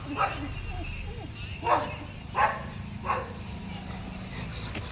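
A dog out on a walk barks at passers-by, giving four or five short sharp barks spaced about a second apart, fairly close, with a person's voice talking softly in between.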